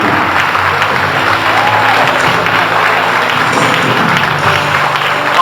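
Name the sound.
congress audience applauding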